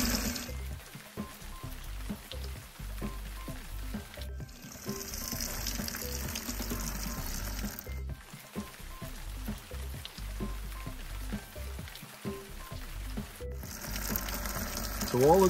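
Water poured onto permeable hardscape pavers gives a steady fizzing, rain-like patter and hiss that runs throughout at moderate level, with brief pauses where the flow drops off.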